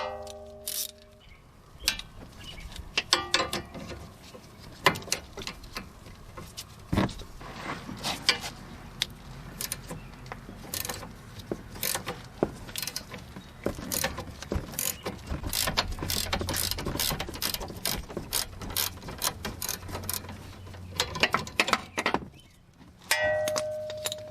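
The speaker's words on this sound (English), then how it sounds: "to get that bottom nut off, I'm going to be using this pivoting ratcheting wrench" A pivoting ratcheting wrench works a bottom nut off a Buick LaCrosse or Chevy Impala steering linkage, giving close, irregular metallic clicks and clanks in bursts throughout, with no talk.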